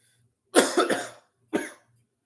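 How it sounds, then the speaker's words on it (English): A person gives two short, close coughs, a double hack followed a moment later by a single cough, in an otherwise quiet room. "Oh, sorry, I got a cough."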